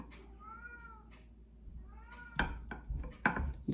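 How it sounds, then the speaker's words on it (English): A stray cat meows at a house's back door, a few faint, drawn-out mews in the background with soft kitchen clatter nearby. "You might be able to hear him mewing in the background."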